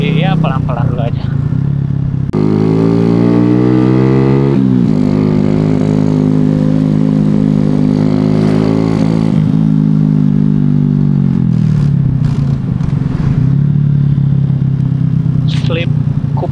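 Suzuki Shogun SP 125 racing-style motorcycle riding through busy city streets, its engine revving up and holding a steady buzzing drone before dropping off, loud and close with traffic noise around.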